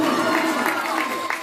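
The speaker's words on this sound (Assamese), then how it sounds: "এটা জোৰদাৰ হাত চাপৰি" Audience applause at a stage event in Majuli, a dense steady clapping from the crowd that continues throughout, with a few louder claps standing out.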